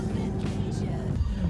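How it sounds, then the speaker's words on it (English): Road traffic heard from inside a car while parked outside a Burger King, a steady low engine and tyre rumble with a few faint passing swells and brief muffled voices. "Traffic."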